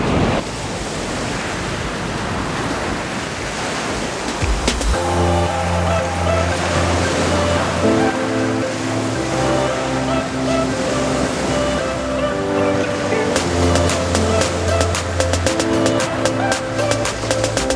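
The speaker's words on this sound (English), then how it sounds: "Looking out to the Caribbean Sea, the ocean." Caribbean Sea waves and surf wash continuously, seen from Mayan ruins on the coast, as a loud broadband roar under a layer of steady background music.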